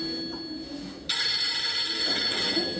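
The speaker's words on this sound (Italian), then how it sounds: "Telefono." A telephone starts ringing partway through with a bright, steady electronic bell tone. It continues loud and unbroken over a quiet room hum, and no one speaks.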